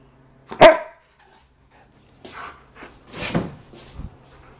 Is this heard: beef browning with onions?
no